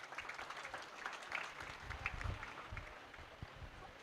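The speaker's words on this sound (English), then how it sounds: "A bigger round of applause." A Model United Nations audience applauds with a dense patter of clapping, sustained and fairly faint as if heard from a distance.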